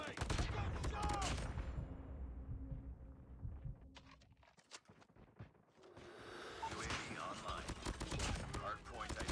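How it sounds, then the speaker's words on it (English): Gunfire from the video game Call of Duty: Mobile comes in dense rapid bursts, stops in a quieter stretch of scattered shots, then picks up again, with game voices calling out under the shooting. "Contact with enemy! Gunshot!"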